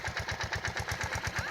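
A tractor engine runs close by with a steady, rapid, regular thudding pulse, unbroken throughout.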